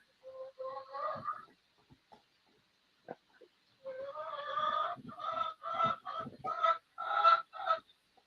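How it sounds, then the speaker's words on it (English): A big chicken clucks in two bursts of harmonic calls: a short run at first, then after a pause a longer series of rapid, fairly loud clucks close by. "Sorry about my Big chicken."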